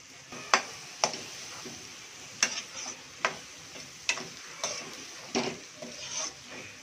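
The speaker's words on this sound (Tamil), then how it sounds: "நல்லா கலரி விடலாம்." A spoon stirring dry fish masala thokku in a pan, with sharp scraping clicks at a loose, irregular rhythm over a faint sizzle, quiet and close, with no talking.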